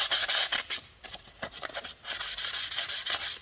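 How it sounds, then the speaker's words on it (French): Fine P500 sandpaper rubs surface rust off an Akrapovic motorcycle exhaust in steady back-and-forth strokes, a close, light scratchy rasp repeating through with no talking. "avec du papier à poncer très très fin. Donc là, j'ai pris du P500."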